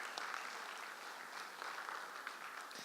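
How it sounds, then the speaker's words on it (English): Applause from a business summit audience, a steady wash of many hands clapping at moderate loudness for about three seconds with a few sharper individual claps standing out. "Ladies and gentlemen, a round of applause."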